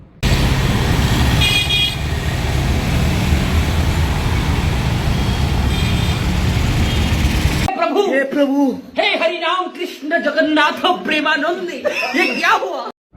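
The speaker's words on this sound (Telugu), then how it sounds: "ఒకసారి ఆ వెహికల్ సౌండ్స్ మీరే వినండి" Busy Hyderabad road traffic with engines rumbling and horns tooting, followed by several seconds of close speech with laughter.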